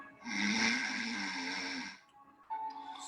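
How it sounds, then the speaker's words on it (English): A man with obstructive sleep apnea snores as he falls asleep, a loud, close, rasping mouth-breathing snore held for about two seconds, followed by a quieter breath. "Watch what happens as he starts falling asleep and starts to snore."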